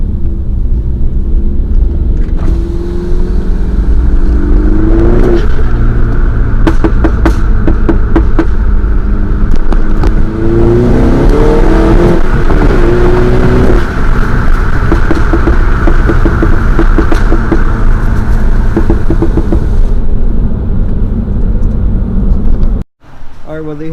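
A JB4-tuned car accelerating hard, a loud continuous engine roar rising in pitch over about twenty seconds with wind rumble, heard from inside the car before cutting off abruptly near the end.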